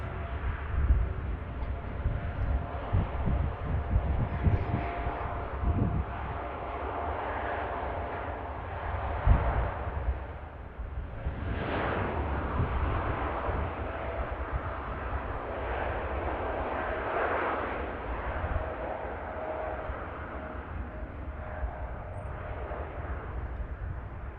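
A TUI airliner takes off at Manchester Airport, a sustained broadband jet roar with rising and swelling tones, heard steadily and fairly loud for the whole stretch with no talk over it.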